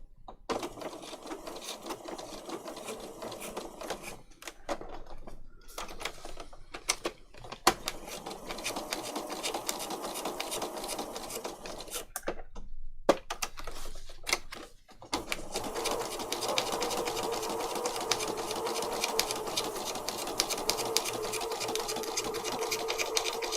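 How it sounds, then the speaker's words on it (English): A sewing machine straight-stitching patchwork pieced on paper, running in a steady close whir with brief stops and restarts, then a longer continuous run. "So let's go back to straight stitch and just start with this little bit of pink up here."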